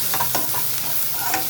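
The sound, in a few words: onions frying with salt and lentils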